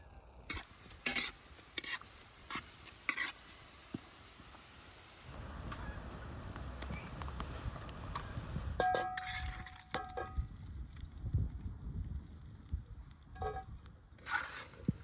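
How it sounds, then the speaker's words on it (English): Meat sizzles, crackles and hisses in hot fat in a pan with occasional stirring clinks and scraping, fairly quiet and without talk. "you drop the meat into that hot fat and it starts crackling and sizzling"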